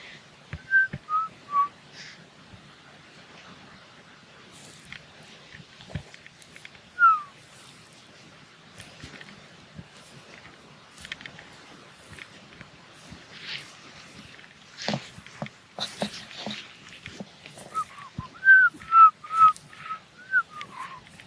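Someone whistles short, bright melodic phrases, pausing in between, over faint background shuffling and a few soft knocks.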